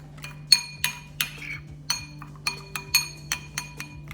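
A spoon stirring chia pudding in a glass, giving a run of about a dozen bright clinks against the glass in an uneven rhythm. The clinks are close and sharp, over a low steady hum, with no voices.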